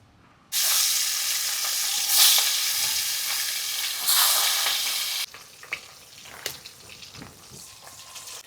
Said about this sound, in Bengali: মাছটা ভাজবো নুন আর হলুদ দিয়ে মেখে নিচ্ছি আর একটু হলুদ লাগবে কড়াই গরম দিয়ে দিচ্ছি সর্ষের তেল